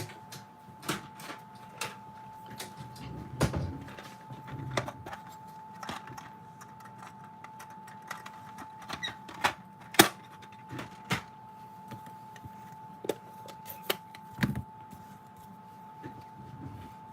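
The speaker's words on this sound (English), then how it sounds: "now let me bring in my soft suede ink and my dauber" An ink dauber loaded with soft suede ink is being tapped along torn paper edges, giving a quiet run of irregular dabs and light clicks over a faint steady hum.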